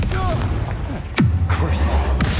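A Confringo blasting spell explodes in Hogwarts Legacy with a single sharp, loud boom midway and a rumbling tail, amid ongoing combat noise and voices.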